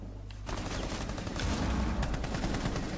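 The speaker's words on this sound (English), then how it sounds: "Being shot at." Rapid bursts of gunfire in Rainbow Six Siege, played on Xbox One, crackle loudly and continuously with overlapping shots, starting after a brief quieter moment.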